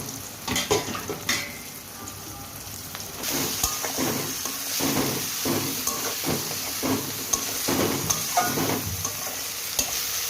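Chicken pieces dropped into a hot pan with chopped onion, salt and turmeric for chicken chana masala, sizzling and frying steadily with repeated stirring scrapes and clatters, close and fairly loud, no voices.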